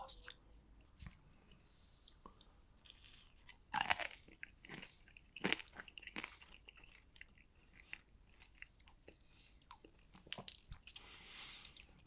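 Crunchy Belgian fried snacks dipped in yellow Bicky sauce being bitten and chewed up close, with sharp intermittent crunches and soft wet mastication sounds spread across quiet pauses.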